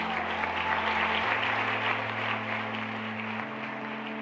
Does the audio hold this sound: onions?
no